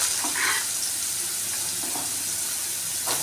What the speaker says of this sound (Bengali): আদা রসুনটাকে হালকা ভেজে নেব